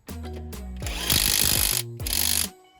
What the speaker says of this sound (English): Genuine Makita gun as well, though, that is.